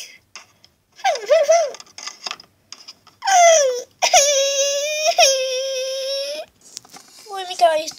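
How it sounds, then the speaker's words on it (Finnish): Cartoon baby crying in rising and falling wails, several loud sobbing bursts with short pauses between them, close and clear, with a bit of voice around the cries. "Voi mikä itku tuolta kuuluu."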